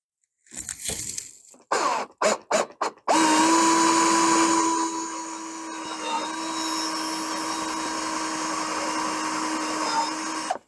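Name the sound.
power drill drilling through board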